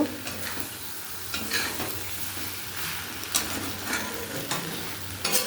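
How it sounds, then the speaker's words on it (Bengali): Quiet, continuous sizzling from a pan of eggs frying with spices, broken by soft scraping and stirring strokes at a loose, irregular rhythm. "ভালো করে ডিমটা কষে নেবো আর একটু ভেজে নেবো মশলার সাথে"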